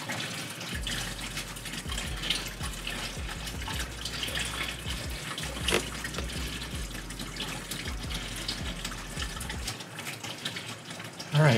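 Coolant drains from a low-point cooling system hose on a 2014-2017 Chevy Caprice PPV, a faint continuous trickle and splash of fluid. Small drips and surges break the stream at intervals.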